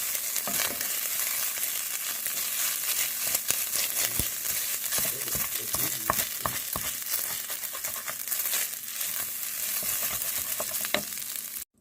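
Large precooked shrimp searing in butter on a stovetop, a dense, steady sizzle with frequent small crackles and pops that runs close and even before stopping abruptly.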